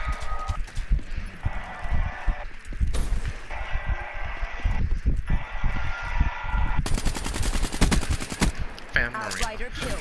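Automatic weapon fire from Black Ops III gameplay crackles in rapid, dense bursts of gunshots, loud and close, mixed with game effects and occasional talking.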